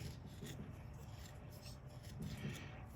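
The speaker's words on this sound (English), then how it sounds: "I use this as a guide to pare this down" A freshly sharpened chisel pares wood for a covered vee joint on a guitar neck, giving a soft close rasping and rubbing that runs steadily with slight swells.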